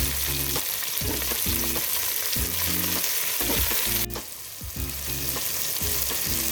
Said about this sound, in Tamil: இந்த டைமில் நம்ம தக்காளி ஆட் பண்ணிக்கலாம்.